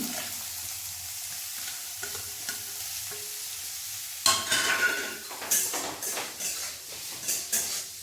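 Onion is added to a pan with a little refined oil: a quiet, low sizzle first, then a sudden louder burst of frying with rhythmic stirring scrapes and surges of crackling.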